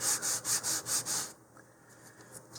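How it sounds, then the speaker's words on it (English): Wood on a model rocket being sanded along the grain with 150 grit paper on a sanding tee: five or six steady close rasping strokes, then the scraping stops and only faint room quiet remains. "And I'm just sanding with the grain."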